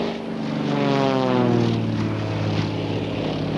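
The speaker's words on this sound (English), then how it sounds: "A 4-point hesitation roll. He stops that airplane 4 distinct times." An aerobatic propeller airplane flies a hesitation roll at an airshow, its engine droning loud and steady with a slowly falling pitch as it passes, alone without talk.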